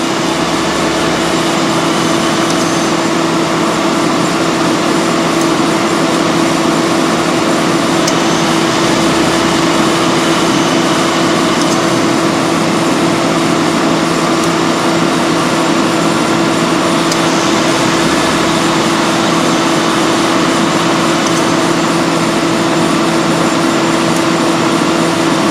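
A 1995 Ford Crown Victoria's engine idles steadily with the A/C compressor running during a recharge, a continuous hum with a strong steady tone, no talk.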